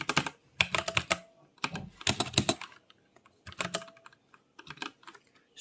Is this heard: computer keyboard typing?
yes